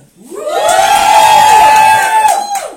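An audience at a contest cheers and shouts, a loud sustained crowd roar rising quickly and holding for about two seconds before fading.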